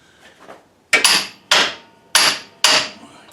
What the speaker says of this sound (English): Get it on there good. Give it some good taps.